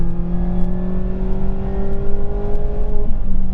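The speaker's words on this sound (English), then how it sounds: "Listen to that, so much engine noise coming through the cabin" A 2022 Mazda MX-5 Miata Club engine revs steadily, its droning pitch climbing as the car accelerates, loud and close, heard from inside the cabin.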